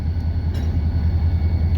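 Loaded freight trains idle nearby on the main line while a locomotive prepares to back up for switching, giving a steady, loud low engine rumble that holds without a break.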